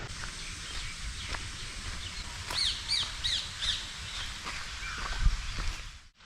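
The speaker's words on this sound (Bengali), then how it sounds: "পাখির ডাক" Birds call around a riverside resort at Ghatsila beside a fast-flowing river, with a short run of four or five bright chirps midway over a steady outdoor background and a few soft knocks.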